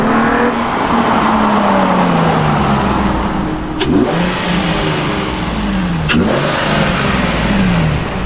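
A car fitted with a cold air intake, plenum spacer and stock exhaust revs hard on a dyno, its engine pitch climbing through gears in repeated sweeps with brief drops between pulls, loud and close.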